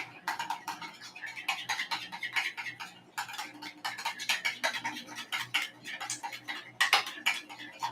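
A utensil stirs lemon juice into a sriracha sauce for collard green sushi, producing rapid clinking and scraping against the bowl in an uneven rhythm, close and fairly loud with no voices.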